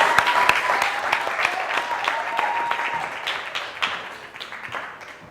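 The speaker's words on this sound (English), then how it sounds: "let's give a huge round of applause to Phyllis and welcome on Alfred" Audience at a televised Ugandan school quiz show applauds for several seconds, a dense steady wash of clapping with a few sharper claps, tapering off toward the end.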